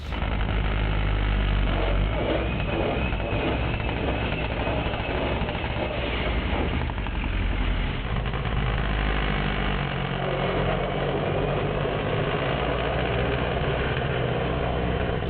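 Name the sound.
AWD Honda K24 RSX drag car launching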